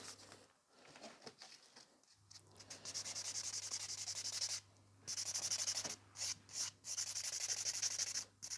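A nail buffer rubs across a painted fingernail in close, soft, hissing strokes, steady runs broken by short pauses and a few quick rapid passes near the end.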